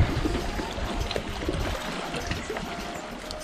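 Stream of cold flowing water near the Issyk-Kul area, a steady rushing and trickling wash close by, with faint background activity.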